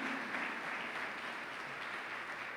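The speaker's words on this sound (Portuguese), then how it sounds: "Pode aplaudir Jesus por isso." A church congregation applauding during a sermon, soft, even, distant clapping that holds steady throughout.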